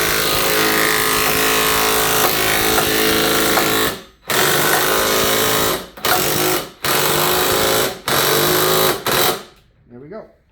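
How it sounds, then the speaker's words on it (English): An impact wrench drives in an upper ball joint on a Dana 30 front axle in a workbench setting, firing in a long steady burst and then several short bursts with gaps between them, loud and close. "Again, I'm going to use the impact."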